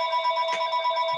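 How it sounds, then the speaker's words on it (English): A telephone rings indoors with a steady, electronic bell-like tone, moderately loud and unbroken across the short stretch, with no talk over it. "I'm sorry about the phone."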